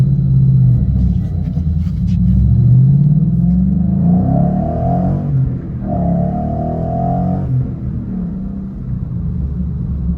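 A deep, throaty Ford Mustang GT 5.0 V8 with about 200,000 miles rumbles steadily and close by, swelling briefly as if revving, with no talking over it.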